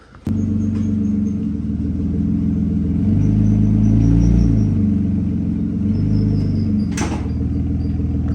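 A BMW E36 car strains to roll forward, a steady low engine rumble that swells and dips, with a sharp clunk at the start and another near the end.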